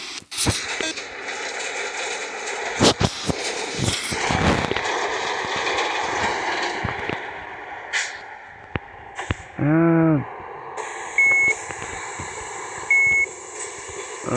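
Electronic beeps sound inside a CDTA city bus on route 172: a warbling tone, then a couple of short high beeps, over steady interior engine rumble and clatter.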